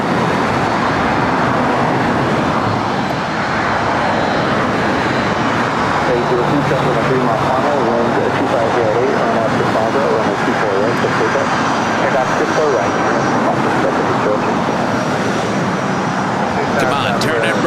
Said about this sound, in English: Who is ready for the loud sounds from the 757-300 again heading to Detroit Metro Airport?